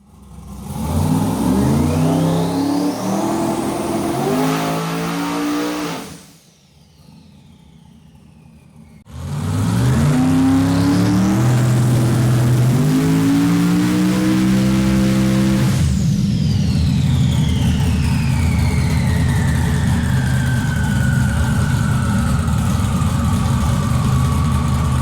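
A twin-turbo Camaro on a dynamometer revs hard through rising gear pulls, drops briefly to a low idle, then climbs again before settling into a sustained high roar with a falling turbo whine, loud and close throughout.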